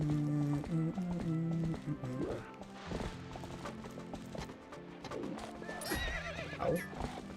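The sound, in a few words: horse neighing and hooves in Zelda video game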